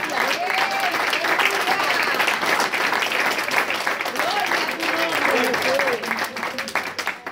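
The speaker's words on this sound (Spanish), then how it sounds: "Dale fuerte el aplauso al Señor." A church congregation breaks into strong, sustained applause during a sermon, dense clapping with some voices mixed in, holding steady before easing off near the end.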